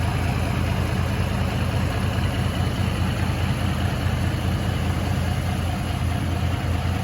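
A steady tractor engine drones continuously at close range, a low, rumbling idle that neither rises nor fades.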